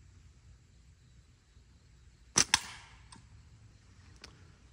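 A slingshot shot outdoors: two sharp, close snapping cracks in quick succession, followed by a couple of fainter clicks over quiet background noise.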